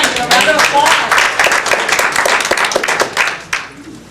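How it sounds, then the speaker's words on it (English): Close, loud clapping from a public speaking audience welcomes a participant. It starts strong, thins out toward the end and finishes with a few last claps, with faint voices underneath. "Give a round of applause."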